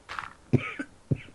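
A person with a sore throat coughs in two or three short, harsh bursts close by, with a rough breathy sound before them.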